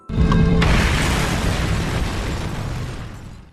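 A film explosion, a blast that takes out a terrorist holed up inside a house, bursts in with a sharp, heavy boom. A long rumbling roar follows and slowly fades over a few seconds, with no talking.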